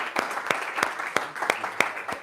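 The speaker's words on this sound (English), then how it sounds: "a round of applause" A small lecture audience claps in a loose, fairly even rhythm, individual claps distinct rather than a dense roar.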